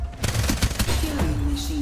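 Rapid gunfire bursts from a Farlight 84 battle royale match, close and loud, with several quick shots in the first second followed by continuing fire under game sounds.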